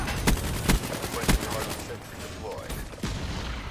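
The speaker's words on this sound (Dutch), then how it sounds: "Final kill met een sentry gun." Sentry gun fire in Call of Duty: Black Ops 3, a few sharp, loud bursts of automatic shots in quick succession, then quieter game noise with mechanical clatter.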